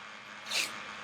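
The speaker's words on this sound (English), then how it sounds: "And I'm just eyeballing it and tearing." Masking tape torn by hand at the edge of an art journal page, a single short ripping burst near the mic in the middle of an otherwise quiet moment.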